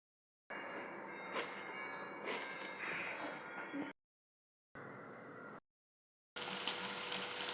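Beef pieces coated in salt, chili powder and cornflour fry in a pan with a steady, loud sizzle that breaks off twice and then resumes, briefly stronger.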